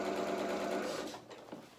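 Domestic sewing machine stitching a dress side panel, a steady close, continuous whir that slows and trails off near the end, with no talk.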